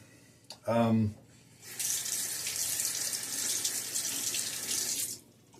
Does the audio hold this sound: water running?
yes